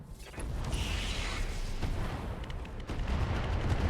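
A Nidhogg mech opening fire in the BattleTech mod RogueTech, a dull heavy booming volley with mechanical rumble and a few sharp cracks, steady and muffled throughout with no talk.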